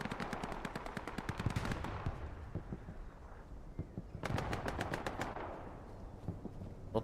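Gunfire from the Hell Let Loose video game during a competitive match: two rapid bursts of automatic fire, each a tight string of sharp cracks, separated by a quieter stretch with scattered distant shots.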